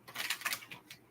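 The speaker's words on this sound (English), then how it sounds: "this is our last shuffle." Quick, crisp riffling and flicking of tarot cards, a rapid papery flutter close by with several small bursts in a row.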